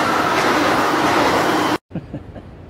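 A loud, steady rumble of a train rolling past, cutting off abruptly, followed by a few quieter knocks and thumps.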